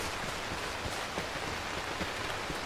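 Rain falls steadily in the survival game H1Z1, an even, hissing patter of drops hitting surfaces throughout, with no voices.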